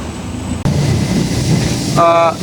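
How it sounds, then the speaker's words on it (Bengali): Loud industrial noise fills the Saidpur railway workshop where trains are repaired: a broad mechanical roar that cuts out briefly and then resumes, with a short tonal hum or whine near the end. "এই দেখেন যেহেতু কারখানা এরিয়া অর্থাৎ নয়েজ একটু হবে"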